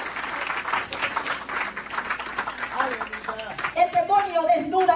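A church congregation claps steadily for the Lord during a Spanish-language sermon, a dense run of hand claps mixed with voices, fading as a preacher's voice takes over near the end.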